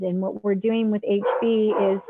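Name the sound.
dog barking in the background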